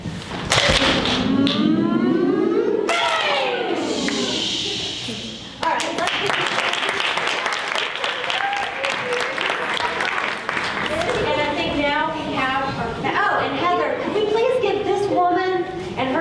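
Audience at a Girls on the Run event doing a group Firecracker cheer, with loud sustained clapping, whooping, whistles and shouting voices mixed together throughout.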